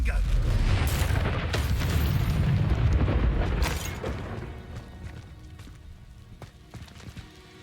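A Confringo explosion spell goes off in the Hogwarts Legacy video game. It gives a heavy, booming blast with crackling bursts that slowly trails off over several seconds.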